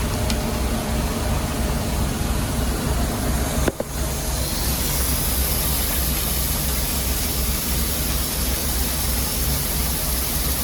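Concrete mixer truck engine running steadily while water is pumped into the drum, a loud continuous mechanical rumble and hiss that holds throughout, with one brief dip partway through.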